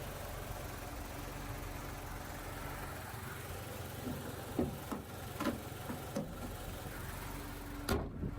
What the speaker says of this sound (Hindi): तो ये था 1000 सीसी पेट्रोल इंजन